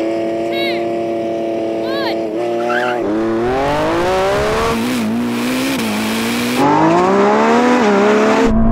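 Lamborghini Revuelto and Ferrari 296 and SF90 supercars drag racing, loud engines revving and rising through gears with sweeping harmonic tones, a brief squeal early on and sustained roar throughout, with faint voices underneath.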